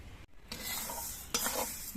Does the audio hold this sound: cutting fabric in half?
no